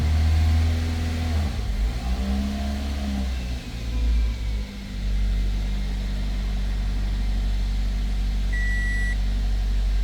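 A Toyota Corolla engine idles steadily just after starting, following an immobiliser fix, a low constant rumble that dips briefly as the revs change, with a short electronic beep near the end.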